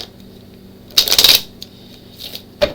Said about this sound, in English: Let me get some shuffling on that.